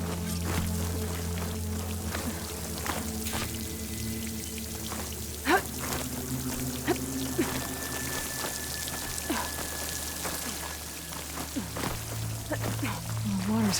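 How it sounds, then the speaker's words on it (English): Water streams and trickles steadily into a wall in the video game Horizon Forbidden West, a continuous wet flowing wash with scattered drips and splashes, with a voice speaking over it. "The water's flowing into the wall."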